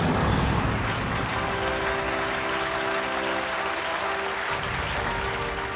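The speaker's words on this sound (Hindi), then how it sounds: "ऑडियंस इसलिए तालियां बजा रही है" A magic show audience claps steadily, dense and loud throughout, with a sustained musical tone swelling underneath partway through.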